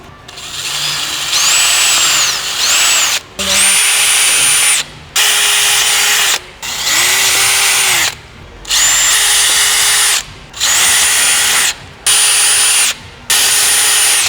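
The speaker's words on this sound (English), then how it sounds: "just drill straight through the holes that are already there" A power drill whines in repeated bursts while drilling through the bumper lip of a 2021 Hyundai i30N hatchback: about eight runs of a few seconds each, separated by short pauses, loud and close.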